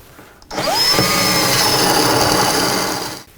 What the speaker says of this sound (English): Okay, we are drilling for the toggle bolt.